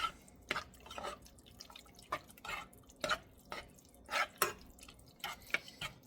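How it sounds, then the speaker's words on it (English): Beef bolognese meat sauce being stirred in a single pot, a close series of irregular wet clicks and soft scrapes against the pot, each stroke brief and separate, with no talking. "Stir it up."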